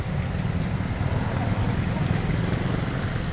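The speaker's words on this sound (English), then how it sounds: "the rain is making it hard, super hard to travel" Heavy rain falls steadily on a busy city street in Angeles City, Philippines, a constant broadband hiss with low traffic rumble underneath, continuous and even throughout without breaks.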